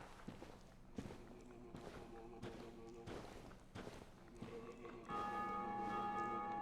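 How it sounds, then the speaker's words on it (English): A bell rings in Dark Souls Remastered, its sustained tone entering late and holding steady over repeated footsteps and thuds in the game. "That sounds like a bell."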